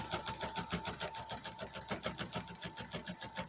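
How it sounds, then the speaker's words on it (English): Domestic sewing machine stitching down the center of a quilt seam, a quiet, rapid rhythmic chatter of the needle pulsing evenly throughout, close by and with no talking. "And then you're just going to sew down the center of that."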